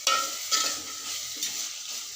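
A potato curry with curry leaves being stirred while it fries, three scraping strokes of a spoon over a soft, continuous sizzle close by, with no voices.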